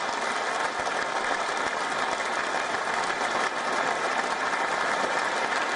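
Sustained applause at a parliamentary meeting of NDA leaders, a dense, steady clapping from a large room that continues evenly for several seconds.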